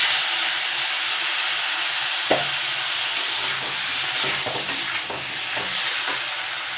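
Tomato with turmeric and chili powder frying in a pan for a Bengali fish curry, a steady close broadband sizzle with a few soft stirring knocks and scrapes after a splash of water, no voices.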